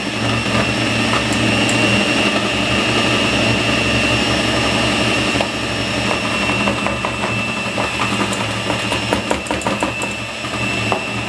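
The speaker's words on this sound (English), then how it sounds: "So I'm going to use my mixer again, turn it on low, and slowly add the powdered sugar" Electric stand mixer running on low speed while powdered sugar is slowly added for a chocolate peppermint pie filling, a loud continuous motor whir with faint ticking clicks near the end.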